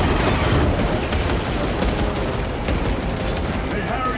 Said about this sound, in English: Tyranids bombarding the chains!